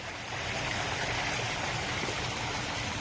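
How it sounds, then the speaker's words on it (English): Gentle stream flowing through a backyard aquascape with Indian Creek river rocks, a steady broadband rush and trickle of water, close and continuous with no talking. "We'll take a look at this gentle flowing stream real fast before we head out."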